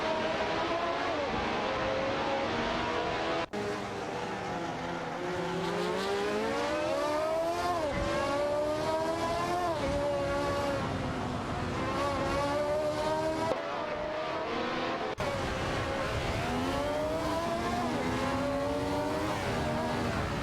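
Race cars in an AI racing video game, including a McLaren M23 and a Ferrari 312T, whine continuously, their engine pitch climbing and falling through gear changes, loud and sustained with no talk.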